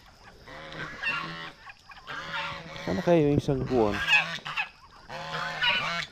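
Farm poultry, ducks and turkeys, call with loud honking, squawking cries in bursts on a small backyard farm, close by, while someone speaks briefly between calls.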